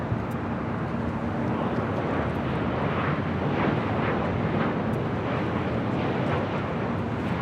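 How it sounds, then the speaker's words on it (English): A United Airlines Boeing 737-900ER jet arrives at LAX from San Francisco, a continuous broadband engine roar holding steady at moderate loudness with a slight swell in the middle. "This arrival is United Airlines 1960 coming in from San Francisco on the 737-900ER."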